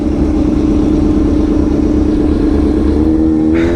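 A Kawasaki ZX6R 636 sport bike with a straight-pipe exhaust holds a loud, steady engine note close up, climbing into a rising rev at the very end.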